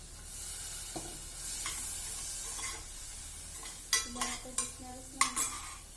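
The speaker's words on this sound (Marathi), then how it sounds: "चवळीचे दाणे पहिलं परतून घ्यायचे" Cowpea beans stir-fried in a pan give a steady close sizzle, with a spoon scraping and clinking against the metal several times near the end.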